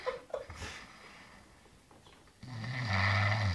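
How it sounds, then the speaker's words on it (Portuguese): A man asleep snores loudly, with a rough, rattling inhale swelling near the end after quieter breathing and faint background sounds. "ronca demais"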